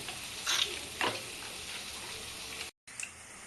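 Batter with pepper and soy sauce is stirred in a bowl, a soft wet swishing with a couple of louder scraping strokes over a steady background hiss, broken by a brief dropout.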